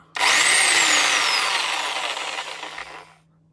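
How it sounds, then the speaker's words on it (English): A plugged-in power tool on a trailer build starts abruptly and runs with a loud, high whine that slowly winds down over about three seconds before stopping. "Plug our power tool in."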